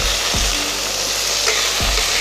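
Tomatoes and onions fry in a pan with a steady, close, hissing sizzle, broken by a couple of low knocks from stirring.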